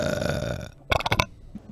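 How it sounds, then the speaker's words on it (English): A person burps loudly straight into a microphone, a short rough belch preceded by a longer droning burp, close and dry with nothing else around it. "I was burping into the microphone"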